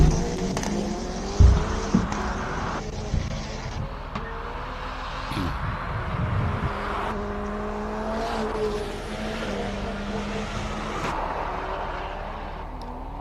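A race car climbs the Simola hillclimb course, its engine revving and shifting through gears as it passes at a distance, rising and falling in pitch over a steady crowd-like background.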